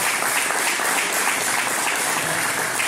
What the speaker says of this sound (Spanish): un aplauso para Benja y un aplauso para Tiziana.